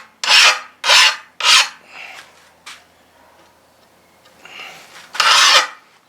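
A file rasps along the edge of a chainsaw bar to flatten it, three loud close strokes in quick rhythm, a pause with faint scraping, then two more strokes.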